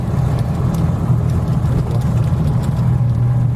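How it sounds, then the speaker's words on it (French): A loud, steady engine drone with a low throbbing rumble, continuous and close, from a Panhard car's air-cooled flat-twin engine running at constant speed. "au niveau bruit du moteur, c'est un peu le bruit d'une 2 chevaux"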